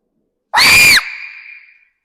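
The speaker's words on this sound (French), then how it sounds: "il est l'heure de crier." A single loud human scream bursts out for about half a second in an empty parking garage, then rings on in a long echoing tail off the concrete, with silence before and after.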